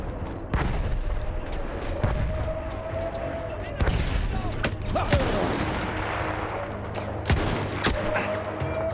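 Rapid bursts of gunfire from Battlefield 1's campaign crackle and pop in a game-like mix, scattered shots and volleys over steady background noise, with a voice talking now and then.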